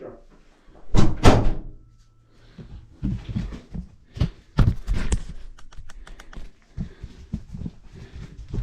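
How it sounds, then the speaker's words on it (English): An indoor door, near a bathroom, is pushed shut with a couple of solid thuds, followed by scattered clattering knocks and handling noises at close range. "I'm gonna close this door, okay?"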